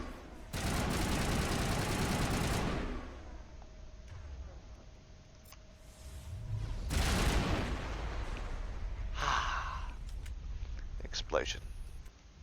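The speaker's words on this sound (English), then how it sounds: "A lovely explosion." A video game explosion in Mass Effect 1 bursts loud and broadband for about two seconds, then a second blast swells and fades, followed by faint rattling game effects and brief clicks.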